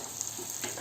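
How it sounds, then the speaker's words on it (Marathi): Pav bhaji vegetables frying on a griddle give a soft, steady sizzle with faint crackles, heard close but quiet over a brief moment with no talking. "हे भाजी टाकून द्यायची. तव्यावर."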